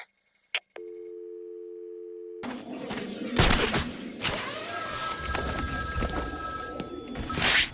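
A telephone ringing in the video game Batman: Arkham City: a brief tone and a steady electronic ring, followed by a rumbling, noisy game soundscape with sharp bangs.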